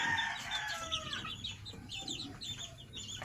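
Hens clucking and chicks peeping together in a busy, overlapping chorus, with a rooster-like call early on, moderately close; backyard gamecock flock.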